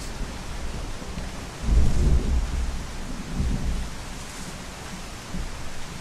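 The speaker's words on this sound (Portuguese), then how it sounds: "Se vocês ouviram um trovão, não foi no jogo, tá?" Real thunder outdoors during a rainstorm: a deep rolling rumble swells over steady rain hiss, followed by a second, softer roll.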